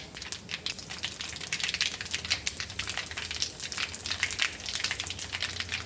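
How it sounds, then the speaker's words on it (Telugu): Mustard seeds, fenugreek, chana dal and dried chillies tempering in hot oil for tomato pachadi, a steady close sizzle with dense sharp popping and spitting crackles throughout. "ఇదండి టమాటా పచ్చళ్ళలోకి తిరగమాత పెడుతున్నానండి"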